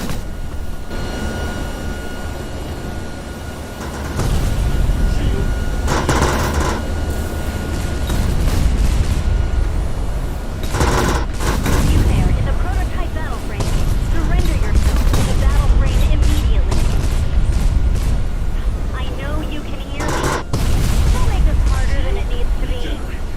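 Weapons fire in the mech video game Nimbus Infinity: loud, sustained volleys and booming blasts rolling over a constant engine rumble, with several strong bursts standing out, while voices talk over the action.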